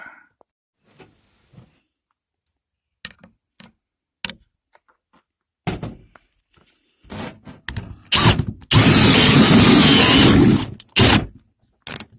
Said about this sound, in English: see if we can drill through that.